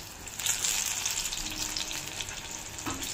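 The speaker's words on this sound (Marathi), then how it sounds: "दुसरी जी आहे तीच पुन्हा तळून घेऊ" Thin slices of ridge gourd bhaji fry in hot oil, giving a steady, close sizzle and crackle throughout, with a brief scrape partway through.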